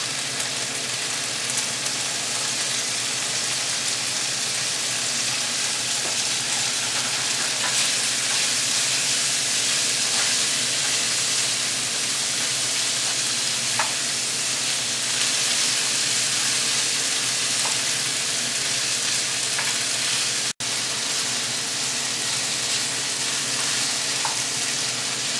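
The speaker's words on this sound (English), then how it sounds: "go ahead and just stir them around in the oil, make sure they get nice and coated with it" Seitan pieces fry in an oiled pan, a dense, steady sizzle and hiss filling the whole stretch, with faint stirring scrapes underneath, close and without talk.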